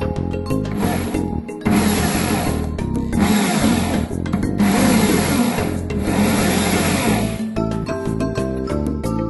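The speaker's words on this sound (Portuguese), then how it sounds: "medes o meio e alarga-se o furo" A power tool widens the hole in an acoustic guitar to fit a pickup, running loud and steady in long whirring bursts with short pauses between them.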